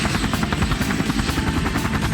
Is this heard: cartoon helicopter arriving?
yes